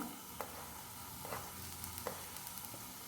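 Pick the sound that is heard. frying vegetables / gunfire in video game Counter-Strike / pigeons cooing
frying vegetables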